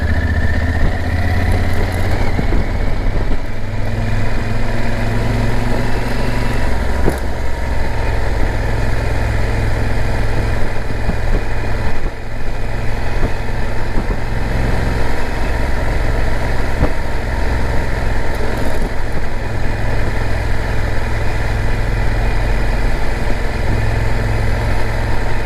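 A motorcycle engine idles steadily for a long stretch during a mountain ride in Mexico, a loud, close, continuous rumble with no talk.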